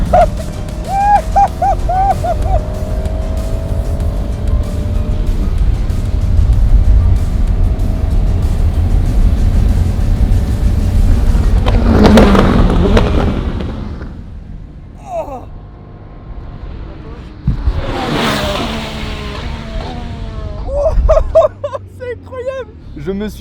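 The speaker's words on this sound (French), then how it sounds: "Je me suis fait dépasser sur le circuit des 24 heures du Mans par le même mec qui a dépassé Michael Schumacher" Sports cars driving in a parade convoy on the Le Mans 24 Hours circuit, engines droning steadily close by with a louder pass or rev midway, while people talk and exclaim excitedly over the noise.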